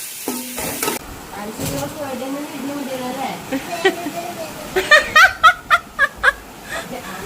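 Biryani ingredients with sugar being stirred in a pan: a low sizzle under a woman's speech and light laughter, followed by a run of sharp rhythmic spoon clinks against the pan.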